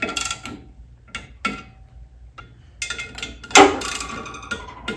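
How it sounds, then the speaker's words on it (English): A Pittsburgh torque wrench tightens flywheel bolts on a 1971 Volkswagen Beetle's Type 1 1600 engine, giving scattered ratcheting clicks and metallic ticks in short bursts, close by and moderately loud, with no talking. "So we got our Pittsburgh from China torque wrench."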